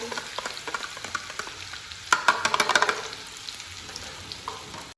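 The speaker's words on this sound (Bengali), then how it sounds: "তো তেল গরম হয়ে গেছে এখন এই লঙ্কা আর রসুনটা দিয়ে দিই" Chili and garlic dropped into hot oil sizzle and crackle steadily, with a louder burst of frying as they hit the pan and light stirring scrapes, close and alone.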